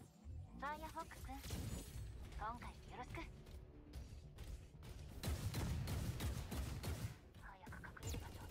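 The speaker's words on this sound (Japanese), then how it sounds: "銃声が聞こえた。" Gunfire in the mecha battle game Super Mecha Champions, rapid clattering shots and mechanical clanks in quick bursts, steady and moderately loud against a busy game-sound background.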